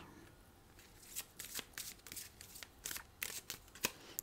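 A tarot card deck being shuffled and handled up close, with a series of crisp card riffles and flicks in irregular bursts, fairly quiet and with no talking.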